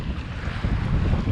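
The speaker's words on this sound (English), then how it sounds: "Hear that wind?" Strong wind at Coral Bay buffets the microphone, a brief, continuous low rumbling gust with no voices.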